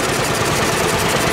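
A 1900 Hurtu veteran car with a 402 cc engine chugs in a rough, rapid, vibrating rhythm, steady and close, with no voices.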